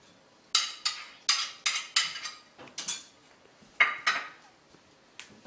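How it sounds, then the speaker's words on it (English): Chopped onions tipped into a cooking pan land as a quick run of sharp clattering hits, about ten close, loud impacts over a few seconds with short gaps, no talking. "Chopped onions, just dump those in."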